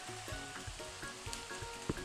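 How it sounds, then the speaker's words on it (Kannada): Green peas, beans, carrot and cauliflower for a veg kurma dropped into a hot pan, a faint steady sizzle with a few soft taps and rattles, brief and fairly quiet. "3 ಟೇಬಲ್ ಸ್ಪೂನ್ ಅಷ್ಟು ಬಟಾಣಿಯನ್ನು ಹಾಕ್ತಾ ಇದ್ದೇನೆ."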